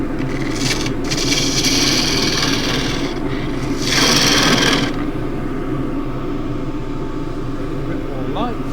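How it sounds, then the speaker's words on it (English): A spindle gouge cuts wood spinning on a lathe while turning a chunky tripod dish, giving rough rasping bursts over a steady motor hum, loudest in two close stretches near the start and middle. "Do all this with the spindle gouge."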